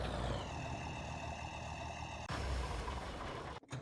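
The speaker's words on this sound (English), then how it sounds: "Just stalled my tractor there." A Farming Simulator tractor engine hums loudly and steadily with a tonal whine, then shifts abruptly and cuts out near the end as it stalls, with no speech.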